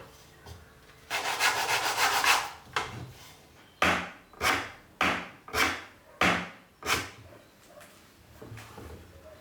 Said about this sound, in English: I'm using a variety of sandpaper grits to smooth out the surface that rests slightly below the mouth